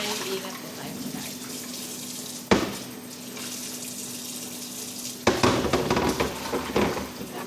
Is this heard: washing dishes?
yes